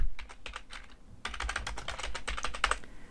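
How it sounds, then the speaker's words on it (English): Rapid typing on a computer keyboard, a short burst of clicks, a brief pause, then a denser, louder run of keystrokes, close and clear with no talking. "as soon as we do that, we can start to type."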